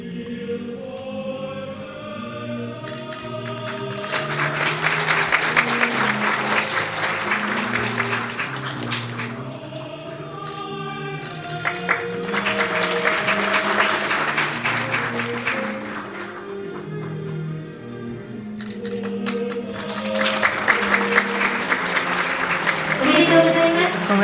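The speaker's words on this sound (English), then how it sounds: "Please give another round of applause." Audience applause at a children's world peace summit award ceremony, with bursts of clapping that swell and fade several times and speech over and between them.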